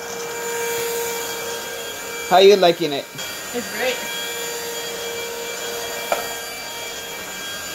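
A household vacuum cleaner runs continuously with a steady whining hum and a high tonal whistle, close and loud, while two people briefly talk over it.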